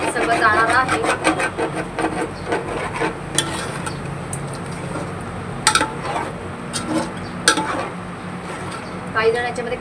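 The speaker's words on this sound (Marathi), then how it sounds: "हे बघा छान मस्त मिक्स करायचं आहे." A spoon stirs a chicken biryani mixture with spices in a pot, giving a steady rhythmic scraping and rubbing with occasional metallic clinks against the pot, close and fairly loud.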